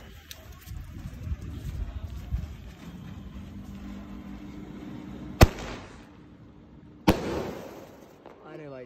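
Firecrackers set off during a Karva Chauth night celebration go off in two sharp, loud bangs a couple of seconds apart, following a stretch of fizzing and background voices.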